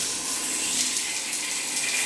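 Shower water runs in a steady, even hiss that holds at a constant level throughout, with no voices.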